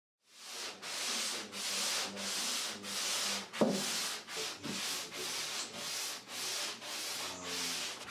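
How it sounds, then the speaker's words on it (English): Final hand sanding of a European beech wood hi-fi credenza, steady back-and-forth rasping strokes in a regular rhythm, close and fairly loud, with no voices. "Here I'm doing the final sanding before I went ahead and applied the pre-stain conditioner."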